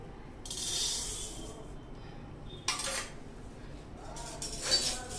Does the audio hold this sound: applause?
no